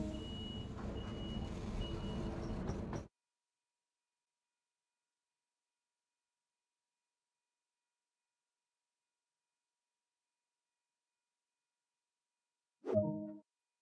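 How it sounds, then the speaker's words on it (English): Bi-level cab car doors in Train Sim World unlock with steady beeping warning tones over a low rumble for about three seconds. The sound cuts off into silence, and a brief thud comes much later. "then unlock the doors."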